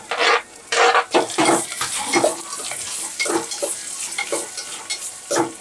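Onions and tomato with fenugreek seeds fry in sesame oil, with a spoon repeatedly stirring and scraping the pan in close, rhythmic bursts over a constant sizzle.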